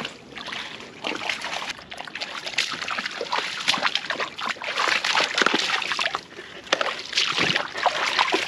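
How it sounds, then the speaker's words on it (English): Boat paddled upstream on a river, with continuous close splashing and sloshing water from steady strokes, swelling and easing throughout. "I just paddled up the stream a little bit"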